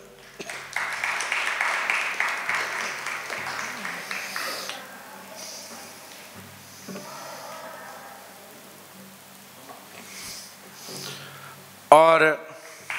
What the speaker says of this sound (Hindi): जोरदार तालियां आप सभी की।